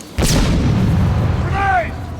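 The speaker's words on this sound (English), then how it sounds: "Grenade!" A grenade blast in the video game Batman: Arkham City, one loud close boom with a rumbling tail lasting about a second and a half, and a voice briefly audible near the end.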